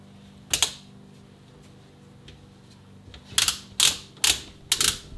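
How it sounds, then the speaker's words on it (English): A torque wrench being set and turned on a clutched limited-slip differential gives one sharp mechanical click, then after a pause four quick loud ratcheting snaps in a row, close by and with no voices. "I'm just going to set my torque wrench."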